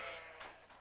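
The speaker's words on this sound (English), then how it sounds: "So, there you have some Icelandic sheep." Icelandic sheep bleat in a brief, faint call, a single wavering bleat heard at a distance outdoors.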